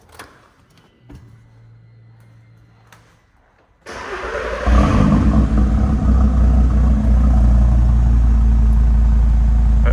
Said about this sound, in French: Mets un petit coup de gaz.